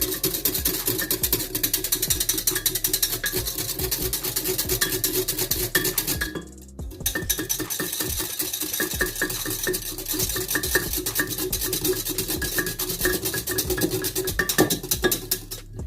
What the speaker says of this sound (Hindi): तो इसको हम अच्छे से मिक्स कर लेते हैं।